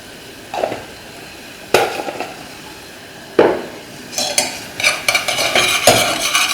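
Vegetables for Nyonya acar are stir-fried in a pan with dried shrimp paste (belacan). A spatula scrapes and knocks against the pan in sharp separate strokes, with sizzling building up and turning busier toward the end.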